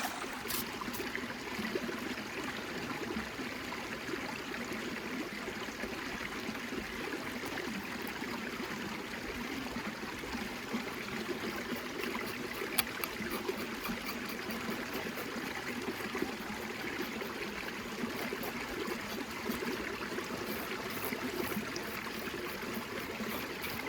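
Water running steadily from an outdoor spigot at a fishing spot, a faint continuous hiss and gurgle with no voices.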